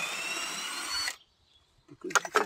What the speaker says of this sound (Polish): No, wiercimy.